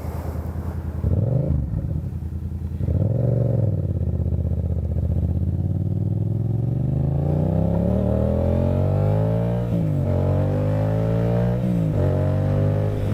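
A recently acquired motorcycle's engine revs up and down close by, loud and continuous, its pitch rising through gears with brief dips at each shift, with wind noise over it and no talking.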